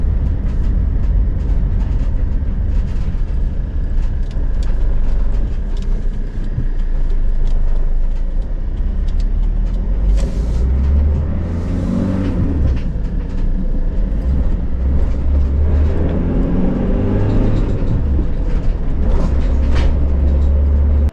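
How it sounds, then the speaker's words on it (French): A Renault Master van's engine runs and accelerates after sitting unused for over a year, a steady loud rumble that swells with heavier low surges in the second half, with no voices. "le véhicule il accélère, il va très bien"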